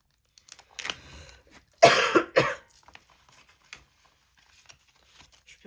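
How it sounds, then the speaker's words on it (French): A person coughs several times up close, with two strong harsh bursts in the middle and smaller throat sounds and faint rustling around them. "Je peux plus de cette toux, j'en peux plus."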